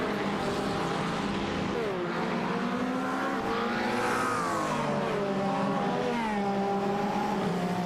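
Race cars at Le Mans in an IMSA sim-racing broadcast roar past in a continuous loud engine drone, rising and falling in pitch as they shift and pass one another, with a commentator's voice faintly under the noise.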